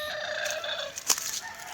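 A rooster crows among chickens wandering a garden, one drawn-out call at moderate distance with a brief sharp cluck near the end and no talk.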